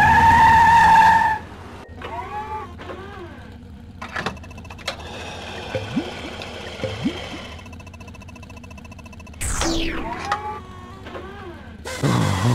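Race car engines from a Cars video game with Lightning McQueen: loud whining engines sweep past with pitch-shifting drive-bys and brief tire skids, a sustained roar fading and then surging again.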